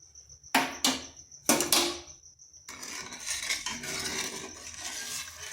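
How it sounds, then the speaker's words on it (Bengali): Ingredients mixed with water, turmeric and salt in a bowl, heard as several sharp clanking scrapes of a spoon against the bowl, then a steady softer stirring. "এগুলো ভালো করে মিশিয়ে নিচ্ছি"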